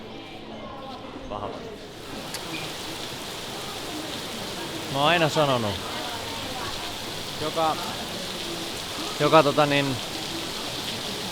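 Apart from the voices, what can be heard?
rain falling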